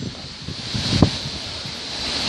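Wind gusting steadily outdoors on Henry Street in Coldwater, Michigan: a broad, continuous roar buffeting the microphone, with one brief thump near the middle and no talk.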